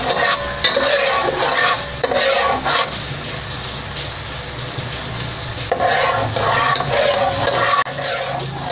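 Onions sautéing in butter in a pan for carbonara, a close steady sizzle broken by bursts of spatula stirring and scraping, no talk.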